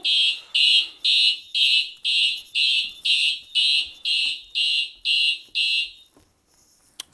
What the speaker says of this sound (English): it re-alarmed because as I'm putting it on, it opened back up a bit, which put the point back into alarm